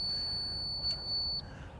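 A slope-setting device gives off a single sustained high electronic beep, steady and fairly faint, that cuts off near the end with low background rumble beneath.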